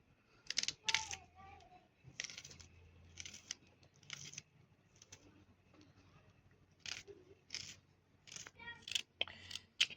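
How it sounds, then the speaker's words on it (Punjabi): Knife cutting potatoes, carrots and other vegetables into small pieces for veg macaroni, a series of short crisp chopping taps in uneven bursts, close and fairly quiet, with faint talk in the background. "ਇਸ ਤਰ੍ਹਾਂ ਛੋਟੇ ਛੋਟੇ ਪੀਸਾਂ ਦੇ ਵਿੱਚ ਆਪਾਂ ਆਲੂ ਆ ਜਿਹੜੇ ਇਹ ਕੱਟ ਲਾਂਗੇ"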